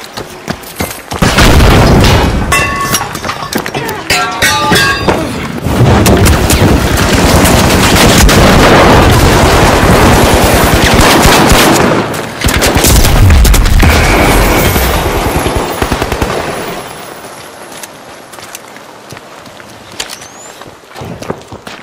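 Frag grenade blasts and rapid gunfire in the video game The Finals, loud booming explosions and sustained bursts of shots that run dense for most of the stretch before thinning out near the end.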